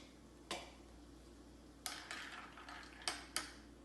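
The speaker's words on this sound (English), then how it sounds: "we're going to stir that again real gently just to get everything mixed up" Soft spoon clinks against a glass as a Paralyzer cocktail topped with Coke is gently stirred, a few light ticks spaced irregularly over a quiet background.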